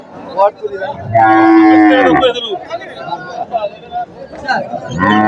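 Cattle at a busy weekly rural livestock market in Bangladesh let out a loud, close, drawn-out moo amid people chattering and calling nearby.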